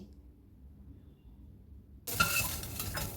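Fried long beans lifted out of a hot pan: after two seconds of near silence, a sudden close burst of utensil scraping, clinks and sizzling continues to the end.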